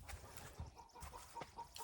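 Faint clucking from chickens nearby, soft repeated calls over a low rustling background.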